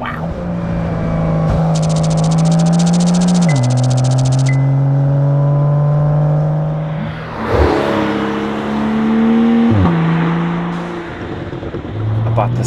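A Brabus-tuned Porsche 992 Turbo S rated at 820 hp pulls hard through its gears, a loud close engine drone that climbs in pitch, drops at each quick shift and climbs again, with a voice talking over part of it.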